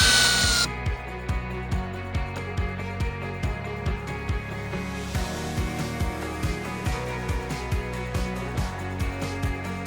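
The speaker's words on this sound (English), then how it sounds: "So we're gonna drill 1, 2, 3, 4 holes and put some rebar in." A power drill bores holes for rebar during a creek bridge install in snowy weather. The motor whines steadily while sharp, rhythmic pulses repeat close and loud throughout.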